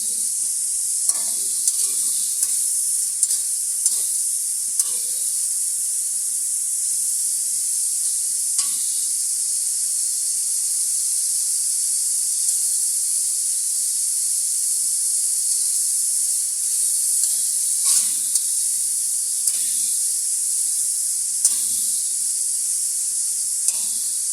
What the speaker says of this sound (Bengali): এবার এর সাথে আমি দিয়ে দিব চিংড়ি মাছগুলো। চুলার আঁচটা একটু বাড়িয়ে দিই।